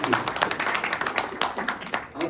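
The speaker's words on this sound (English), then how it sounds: "try to clap a little bit louder just to show people the energy" An audience at a startup pitch event claps in a dense, continuous round of applause, with rapid overlapping claps heard close and fairly loud throughout.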